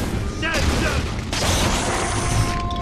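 Two sharp gunshot blasts in Bioshock 2, loud and close, each followed by a rumbling tail, set against a dense game soundtrack with a voice speaking over it.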